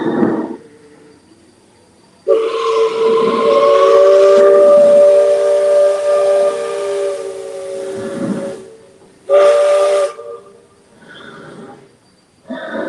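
The steam train of the Magic Kingdom railroad at Walt Disney World sounds a long, loud whistle blast over hissing, followed by a second shorter blast after a brief gap, with quieter rumbling between.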